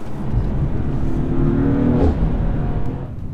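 A Mercedes C63 accelerates through a wet corner, its engine a loud, close, sustained drone that rises in pitch toward the end, with no voices over it.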